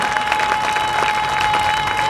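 A church congregation applauds and cheers for Jesus, a dense, steady wash of clapping and crowd noise filling the whole stretch at close range, with a sustained tone running beneath it.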